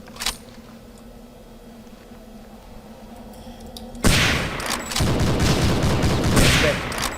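In Hidden & Dangerous 2, soldiers' gunfire starts with a single distant crack over a low hum. Midway, a loud, dense, sustained volley of shots and explosive bursts erupts and carries on to the end.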